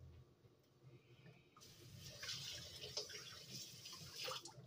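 Running water splashes over bulk meat during a quick rinse, a steady faint tap stream that swells into louder, busier splashing partway through.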